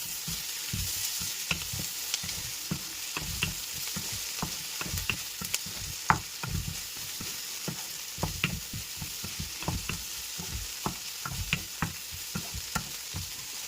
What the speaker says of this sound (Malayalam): വെളുത്തുള്ളി പേസ്റ്റ് ഞാൻ ഇതിലോട്ട് ആഡ് ചെയ്യുവാണ്. ഇനി അതൊന്ന് ഇളക്കി മിക്സ് ചെയ്യാം.